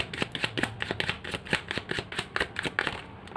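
Tarot cards being shuffled, a fast run of crisp papery flicks and riffles in a steady close rhythm, with no talking over them.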